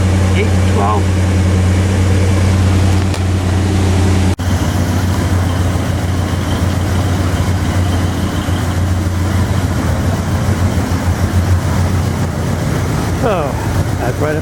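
A 1960 Chrysler 300F V8 idles after a cold start, a loud steady low rumble that shifts tone partway through and then settles, heard close with someone talking over it.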